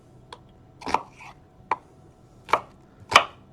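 Knife chopping an onion on a cutting board, five separate crisp thunks spaced unevenly, close and clear with quiet gaps between strikes.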